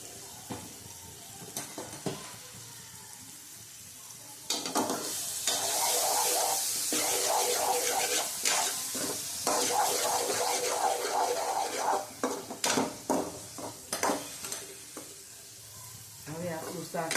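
Banana curry vegetables fry in hot oil in a Gujarati kitchen, a constant sizzle swelling louder mid-way, with repeated scraping and clinking as a spoon stirs the pan.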